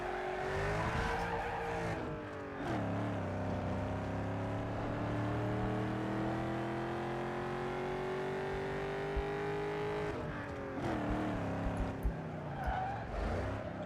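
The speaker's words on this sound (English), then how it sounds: "I like the sound of the V8" V8 car engine in Need for Speed Underground 2, a loud sustained drone with rising and falling pitch as the car accelerates and shifts, tires squealing, no talk over it.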